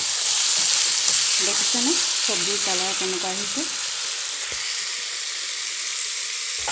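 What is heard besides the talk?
vegetables frying and being stirred in a pan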